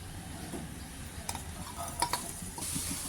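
Chopped garlic sizzles quietly in about three tablespoons of hot white oil, with a soft, steady hiss. A few scattered clinks of a utensil against the pan cut through it.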